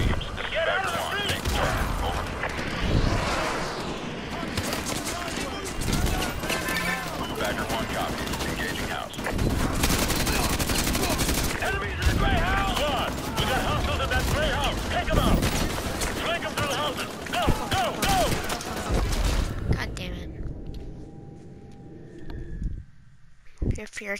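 Call of Duty Modern Warfare 2 gameplay is full of dense, continuous gunfire and machine-gun bursts with explosions, under shouted squad radio chatter, before the noise drops away near the end.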